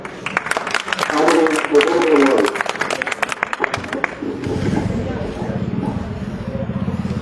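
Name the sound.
applause welcoming a speaker at a rally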